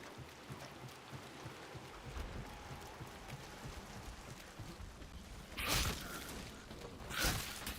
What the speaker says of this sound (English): at least we're starting in heavy rain